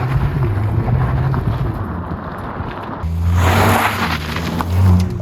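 A Volkswagen Polo GTI small hatchback accelerates on a test drive, its engine droning steadily before a louder surge of revs and rising rumble near the end.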